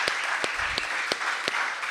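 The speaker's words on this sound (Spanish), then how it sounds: "Yo creo que se merecen un aplauso nuevamente por esta intervención" An audience claps at a panel event on collective practices and museology, a steady wash of applause with a few sharp nearby claps standing out in a regular rhythm.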